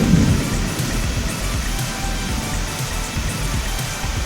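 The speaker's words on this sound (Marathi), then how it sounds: "बघ कसा पाऊस पडतोय" Heavy rain pours steadily with a deep rumble of thunder underneath, a dense continuous roar close by.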